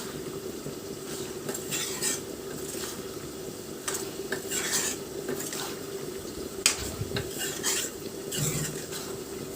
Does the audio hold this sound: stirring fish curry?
yes